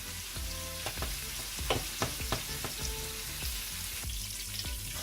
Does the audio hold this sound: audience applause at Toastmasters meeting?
no